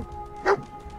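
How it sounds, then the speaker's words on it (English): A dog in Fallout 4 gives a single short bark, fairly close and clear, over a quiet game ambience with a steady hum. "Now the dog's out of the fucking doorway."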